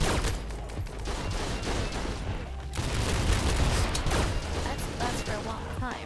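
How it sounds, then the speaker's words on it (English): Dense, loud video game gunfire and explosions in a space prison combat game form a continuous rattling barrage with booms, while a voice talks over the noise. "Please shoot the enemy."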